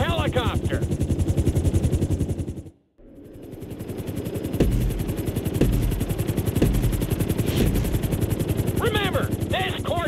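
A helicopter's rotor in Grand Theft Auto 5 thumps in a fast, steady chop with engine whine. It cuts out briefly, then resumes alongside sharp clicks and chirps.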